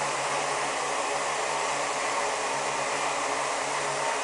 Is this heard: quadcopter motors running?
yes